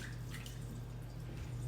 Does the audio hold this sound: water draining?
yes